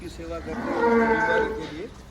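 A cow at a cow shelter in Valsad, Gujarat, housing 365 cows, gives a single drawn-out moo lasting about two seconds, clear and fairly close with no talk over it.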